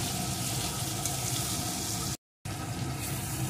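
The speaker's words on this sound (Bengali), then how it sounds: "টমেটো কুচিটা দিয়ে আরেকটু ভেজে নেব।" Chopped tomato frying with onion and garlic in a kadai for a mutton curry: a loud, dense, continuous hiss and crackle filling the whole clip, broken by a brief silent gap, close and without voices.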